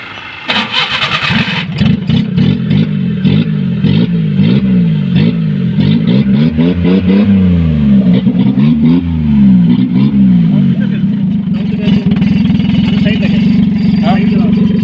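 Modified Maruti Omni van engine with a small added muffler, revving repeatedly in rising and falling surges close by, then settling to a rough idle, with someone talking over it.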